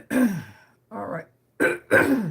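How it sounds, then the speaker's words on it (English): A person clears their throat in several short, harsh bursts with brief pauses between them, close and alone. "it's all about clearing the throat."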